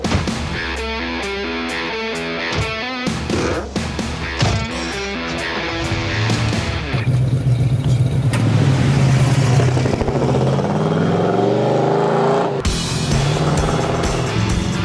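A 1979 Pontiac Trans Am engine roars and revs loudly, the pitch rising and shifting through gears as the car drives hard.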